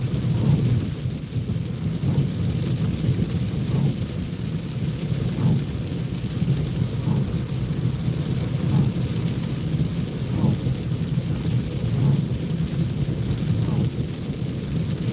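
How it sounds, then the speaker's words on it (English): Steady rain pours down continuously in Florida while low rumbles of thunder roll through, fairly loud and close, with no voices. "Yes, it's raining in Florida."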